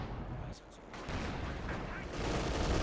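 Artillery fire in Company of Heroes 2, a dense wash of rumbling blasts and crackling impacts rolling continuously, with a voice talking over the barrage.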